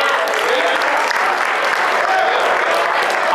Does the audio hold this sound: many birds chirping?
no